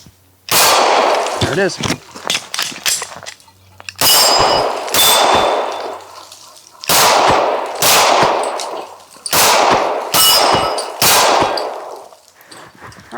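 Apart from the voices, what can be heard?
Glock pistol gunshots ringing on steel targets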